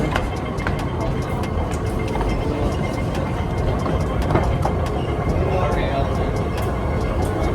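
Hong Kong MTR train in motion heard from inside the carriage, a steady loud rumble with rattles and clacks running throughout, people talking over it.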